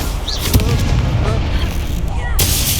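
The Confringo explosive spell cast in the game Hogwarts Legacy, a loud booming blast with rumbling follow-up and a second burst near the end, heard amid game effects.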